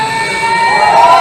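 Crowd at BronyCon 2019 screaming and cheering as a trivia event wraps up, a loud dense roar of high-pitched shouts and whoops that swells steadily over its short span.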